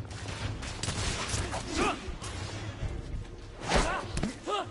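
Heavy gunfire in the steampunk shooter game The Order 1886, with bursts of shots and thumping impacts rolling under shouting and voices throughout.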